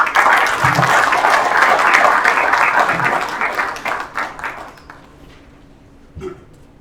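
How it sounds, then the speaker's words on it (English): Conference audience at a development event bursts into dense applause that holds steady for several seconds, then thins into scattered claps and fades out. "So another round of applause for Fatima Haram Asiro."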